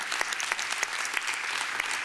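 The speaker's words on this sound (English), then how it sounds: "if we're going to clap for every wonderful thing about Jordan, we'll be here all night" An audience at a June 2013 NPS SAB meeting applauding in a dense, steady burst of many hands clapping together, loud and sustained through the whole stretch.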